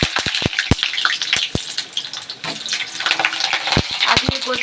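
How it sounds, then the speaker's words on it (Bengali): Potatoes dropped into hot oil, a close crackling sizzle broken by sharp clatters and knocks from utensils in a busy home kitchen, with some faint talking in the background. "তেল গরম হয়ে গেছে, আলু দিয়ে দিলাম"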